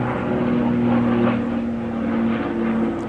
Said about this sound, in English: Airplane, always happens.